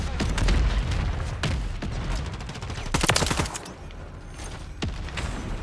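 Mortar strike in the Call of Duty MW3 video game: a rapid barrage of booming explosions and gunfire bursts, loud and dense, with a cluster of heavy blasts midway.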